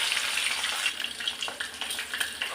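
Onions, curry leaves and fenugreek seeds sauté in hot oil in a pan, a close, steady crackling sizzle with light stirring scrapes throughout and no talking.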